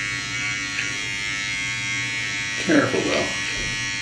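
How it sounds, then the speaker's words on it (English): A Braun BT3040 electric beard trimmer buzzes steadily and close up while trimming a beard around the neck, its even hum running throughout with a brief louder scrape near the end as a person speaks. "You can just kind of brush those off with the trimmer."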